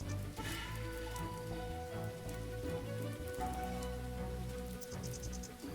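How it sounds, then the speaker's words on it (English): Steady rain falling in the video game Wandering Sword, a continuous patter mixed under game music with sustained tones throughout. "but now it's raining."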